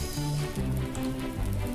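Rain falling in a Hunger Games minigame, a soft continuous patter hissing under low tonal game music with sustained notes, steady and moderately loud across the whole short stretch.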